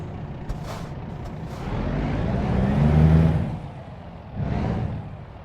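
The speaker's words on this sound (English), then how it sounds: "That's why I revved." A truck's engine revs up and eases back in American Truck Simulator while waiting at a traffic light, a steady low rumble swelling to a peak before fading, followed by a brief second rise.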